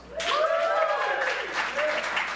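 Audience applause at a live comedy and music show, a short burst of clapping mixed with whoops and cheering voices, rising quickly and lasting a couple of seconds.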